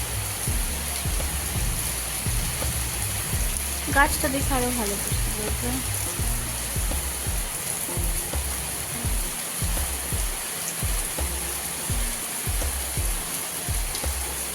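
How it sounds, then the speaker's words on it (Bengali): Heavy rain pours down outdoors as a steady broadband hiss throughout, with a low irregular pattering underneath and a person briefly talking over it. "দেখছো তোমরা সবাই কত জোরে বৃষ্টি শুরু হয়েছে"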